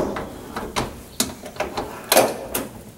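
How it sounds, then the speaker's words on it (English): Door of an Ecolab commercial washing machine being closed, heard as a short series of clicks and mechanical latching knocks, close and fairly clear, with no talking. "and then we're going to close the door"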